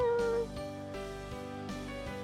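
A cat meows in the Purrfect Date video game, a single drawn-out call near the start heard over steady background game music, with no talking.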